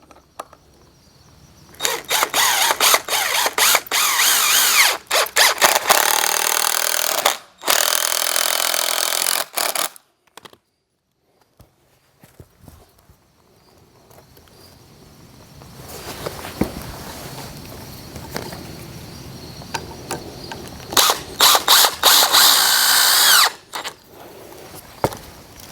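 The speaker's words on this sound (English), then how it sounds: "Take your 12-inch piece, screw it into the bottom or the end of it right here." A power drill drives screws into the wood of a firewood rack in two loud, bright whirring bursts, the first longer and the second near the end, with quieter handling sounds between them.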